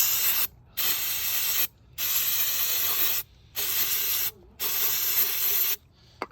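Cleaner spray is sprayed onto a C6 Corvette's mass airflow meter in four long hissing bursts separated by short pauses, close and steady, with a faint click at the end.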